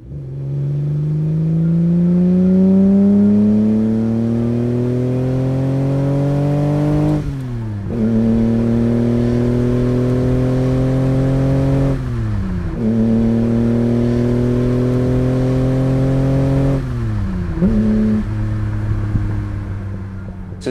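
A Ferrari 250 3-liter V12 revs hard through the gears, its pitch climbing steadily before dropping at each of three upshifts and winding up again; loud, close and continuous, with no talking.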